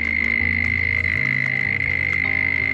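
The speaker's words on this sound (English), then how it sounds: "That's the noisiest cricket." Outdoors in Buchan, Australia, a very loud cricket keeps up a shrill, steady chirring tone close by, constant and unbroken, with no voices.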